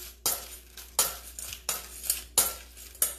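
Churros being stirred in a pan with a utensil, giving a run of sharp clinks and scrapes that recur about every second, close and alone.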